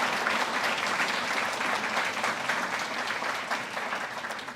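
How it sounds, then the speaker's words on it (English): At an honors convocation, a large audience claps steadily for award winners, a dense continuous applause that slowly tapers toward the end, with no voices over it. "Another round of applause, please, for the winners."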